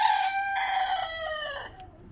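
A rooster crows once, loud and close, in a coop with a hen sitting on eggs and young chicks, the call trailing off after about two seconds.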